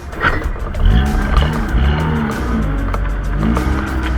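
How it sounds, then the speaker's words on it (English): Loud, steady road and wind roar inside a car travelling at about 100 km/h on a highway, a constant heavy rumble that fills the whole clip with no voices. "you don't realize how noisy it is when you're traveling at 100 kilometers an hour"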